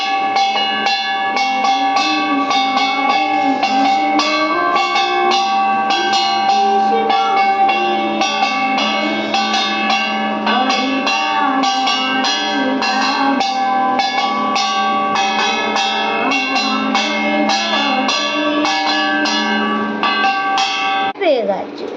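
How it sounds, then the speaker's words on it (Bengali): A bell-metal kansar gong rung during a home puja gives a continuous bright, ringing metallic clang, loud and sustained for about twenty seconds before stopping abruptly. "কাসর বাজলে ভয় পেয়ে যায়।"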